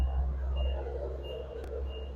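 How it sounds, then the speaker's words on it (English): Outdoors at a workplace, a shipping truck sits nearby while its reversing alarm beeps in short, regularly spaced tones over a steady low engine rumble, moderately distant. "I think the truck's sitting out there now."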